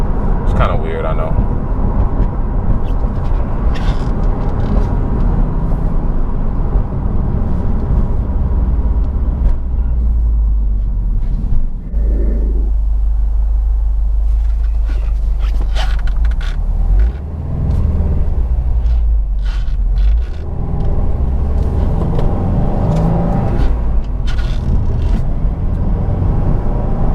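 A Subaru WRX STI engine rumbles low and steady while driving, heard from inside the cabin, with a person talking over it for most of the stretch.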